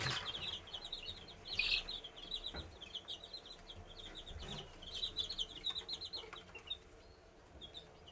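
Baby chicks peep and chirp in rapid, overlapping bursts inside an old fish tank, with faint rustling and a bit of fluttering underneath, fairly close and steady throughout.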